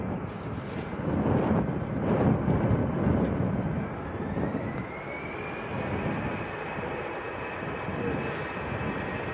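An EasyJet airliner bound for Paris at Manchester Airport gives a broad, steady jet roar with a slowly rising engine whine, loudest early on and then easing slightly, heard outdoors with some wind buffeting.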